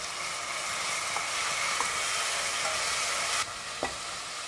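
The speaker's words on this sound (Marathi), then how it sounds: "आता आपण त्यामध्ये आलं लसणाची पेस्ट घालूया आणि आलं लसणाची पेस्ट चांगली परतून घ्यायची आहे" Ginger garlic paste frying in a pan with onion, giving a continuous loud sizzle with occasional scrapes and clinks from stirring, close by and without talking.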